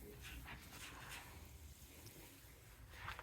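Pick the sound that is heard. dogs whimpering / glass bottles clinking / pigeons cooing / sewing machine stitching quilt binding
dogs whimpering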